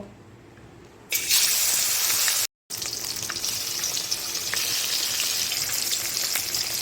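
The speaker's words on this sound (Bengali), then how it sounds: "তেলটা গরম হয়ে গেছে, এবার কড়াতে মাছ দিয়ে দেব।" A sudden loud burst of sizzling as fish hits hot oil, followed by a steady, close crackling hiss with a brief silent gap.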